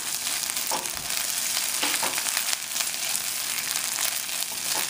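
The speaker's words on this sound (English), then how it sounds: "let this fry for about 30 seconds" Spices fry in hot oil in a pan for a homemade tomato sauce: a dense, steady, close sizzle with a few faint stirring knocks, and no one talks over it.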